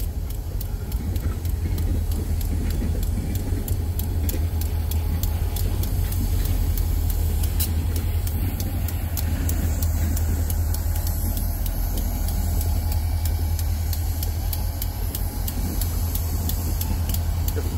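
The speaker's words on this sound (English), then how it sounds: "Love the sound of them diesel motors, just love them." Wheeling & Lake Erie diesel locomotive engines idling as a deep, steady low rumble with a faint ticking texture, continuous and fairly distant, with no one talking.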